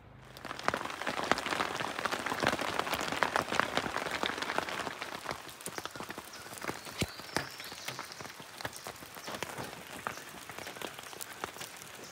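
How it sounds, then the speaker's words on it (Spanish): Morning rain falls on a family campsite, a dense pattering of drops with sharper taps on nearby surfaces, steady and close, strongest early then easing slightly, without talking. "Empezó a llover toda la noche, como a las 2 de la mañana, y ya son las 8 de la mañana, sigue lloviendo aquí."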